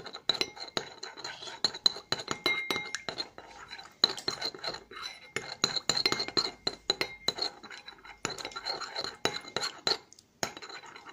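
A sample being mixed in a glass container, with rapid, fine clinking and tapping of glass and utensil, quiet and close, continuing irregularly throughout with brief pauses.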